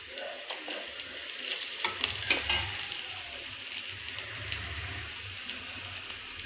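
Onions for an okra curry fry in a pan, a soft, continuous sizzle with intermittent stirring scrapes that swell to a brief louder clatter partway through, heard up close without speech.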